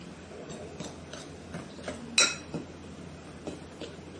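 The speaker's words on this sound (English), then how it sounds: "So I am just mixing this into a doughy type thing" Blackberry dumpling dough being mixed in a bowl, with a soft, irregular series of light clicks and scrapes as a utensil knocks the bowl, one sharper clink partway through, all fairly quiet and close.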